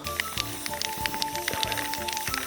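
Spray paint hisses from an aerosol can in short repeated bursts with rattly clicks between them, close and steady, while faint voices sit underneath.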